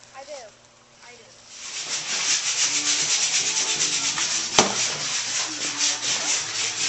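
A power sander works over the wood of a bunk bed, a steady loud rasping hum that runs continuously from about two seconds on, with a sharp knock partway through and people talking faintly beneath it.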